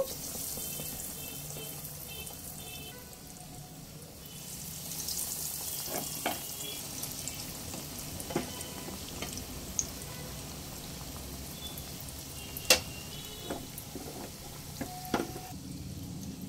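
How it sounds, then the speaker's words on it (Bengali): Chicken donuts deep frying in hot oil over a medium-low flame, a steady soft sizzle with scattered sharper pops and crackles through the second half; no talking. "মিডিয়াম লো ফ্লেমে ডোনাটসগুলো আমি ভেজে নেব"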